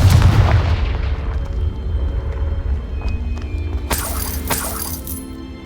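Confringo blasting spell going off in Hogwarts Legacy, a heavy booming blast with a rumbling tail, followed later by sharp shattering cracks near the end, loud and close with no talk.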